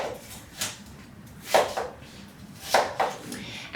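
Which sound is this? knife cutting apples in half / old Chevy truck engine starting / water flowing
knife cutting apples in half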